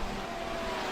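A race car's engine drones steadily as it exits the pit lane at Silverstone on cold fresh tyres in a Grand Prix racing game, a continuous even hum with no talking.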